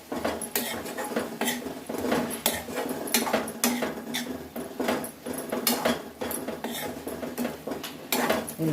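Spring onion and dried fish are stir-fried in a pan, with a spatula clattering and scraping against the metal in a quick, repetitive rhythm, close and moderately loud throughout.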